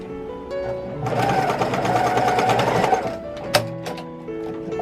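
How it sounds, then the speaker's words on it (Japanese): A sewing machine stitches the facing onto a six-panel skirt with an elastic back, running in a fast, steady whir for about two seconds, slowing and stopping, then starting up again close and alone. "まずこれくらいで縫って"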